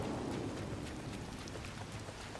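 Rain pouring during a thunderstorm in the Disney Dreamlight Valley video game, a quiet, steady wash of rainfall with a low rumble beneath, continuous and even, no talking.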